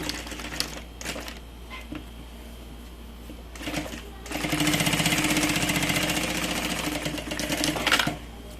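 Sewing machine stitching a large bag strap, with short bursts of rapid mechanical needle stitching early on, then a longer continuous run of stitching at close range.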